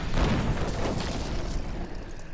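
A molten monster exploding in the video game Diablo 3: a loud, dense booming burst with crackling debris that stays thick and noisy for a couple of seconds before easing slightly.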